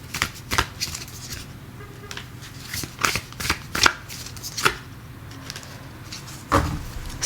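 Tarot cards shuffled by hand in a run of quick, crisp riffling bursts with short pauses between them, close and fairly quiet with no talking.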